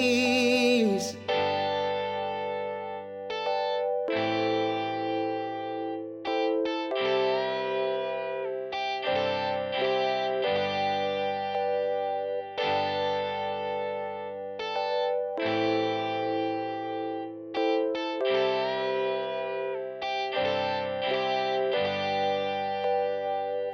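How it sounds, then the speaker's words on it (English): An electric guitar solo in a song, played through distortion, chorus and echo effects, with sustained, bending notes and short gaps between phrases, loud and continuous with no voice. "I think that's a really cool little guitar solo we had there"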